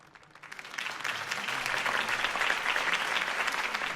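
Crowd applause following a political campaign speech for Harvey Dent in the Batman Telltale video game, a broad wash of many hands clapping that swells in and then holds steady and loud.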